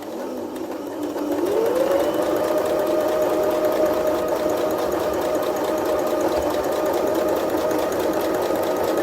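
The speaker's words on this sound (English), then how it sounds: "So we'll just start by back stitching." A sewing machine back stitches a fabric face covering, spinning up from a soft start into a continuous, steady mechanical hum that runs close and even for several seconds.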